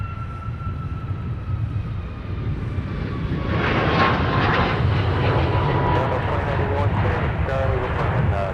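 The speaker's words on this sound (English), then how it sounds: "here is Southwest coming in from Denver, cutting in front of our live view" A Southwest Boeing 737 MAX 8 jet taxiing at Minneapolis–Saint Paul airport, a steady broad engine rumble that swells and holds, with a faint whining tone fading early on.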